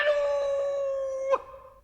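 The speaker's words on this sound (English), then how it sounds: "there was a dreadful screech from the cabin. It wailed through the ship and died away, to be followed by a crowing sound" A single drawn-out crowing call rises from a ship's cabin right after a dreadful screech, sustained and tonal, then ends in a short sharp break before fading out.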